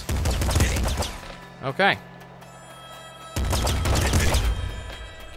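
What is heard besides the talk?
gunfire from weapon in video game Nuclear Throne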